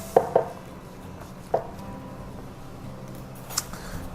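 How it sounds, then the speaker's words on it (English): A knife slicing smoked jalapeño tri-tip on a cutting board gives a few sharp, close chops, two quick ones, then a single one, and a last faint tap over a quiet background hum. "And then we're going to go ahead and finish slicing our slices all the way."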